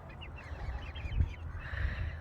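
Bantam chickens, including a silkie, in a coop: soft, faint clucking and murmuring calls over a low background rumble, with no talking.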